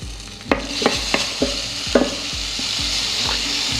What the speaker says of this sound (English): My bacon is browning